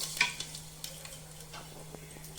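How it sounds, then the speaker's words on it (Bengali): Cumin seeds and sugar crackle softly in hot mustard oil in a pressure cooker, a faint, even sizzle with a few light ticks and a low steady hum beneath. "এটা গরম হয়ে গেছে, জিরা ফোড়ন দিয়ে দেব ও চিনি দিয়ে দেব"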